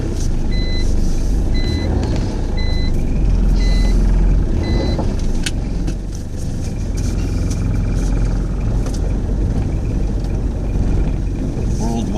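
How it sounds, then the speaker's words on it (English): Car driving around the island of Nauru at sunrise, with steady engine and road noise throughout, a repeating series of reversing-style beeps early on, and a voice talking over it. "we're gonna go for a drive at sunrise around Nauru."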